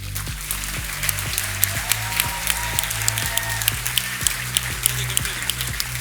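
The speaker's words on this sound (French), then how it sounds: "Je voudrais un tonnerre d'applaudissements pour Leslie Kem." Applause at a master's degree graduation ceremony, steady crowd clapping with a rhythmic beat running beneath it, sustained and moderately loud throughout.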